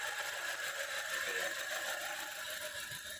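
A Yamaha Avega motorcycle engine with Blackcore tuning and additive idles steadily at around 2000 RPM, giving a continuous, even mechanical drone with a whiny tone and no talk over it.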